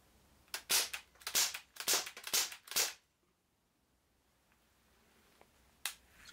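A Gamo MP9 air pistol fires pellets in a quick series of about five sharp cracking pops within three seconds, then near silence with faint clicks and one last snap.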